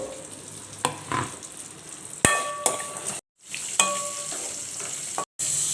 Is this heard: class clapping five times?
no